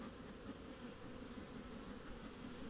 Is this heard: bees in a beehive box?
yes